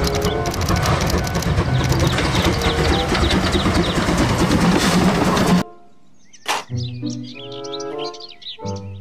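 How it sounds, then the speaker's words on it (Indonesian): A toy Thomas train's rumbling, clattering run for several seconds, then it cuts to bright, chirpy electronic tones and a short tune. "Kereta Thomas."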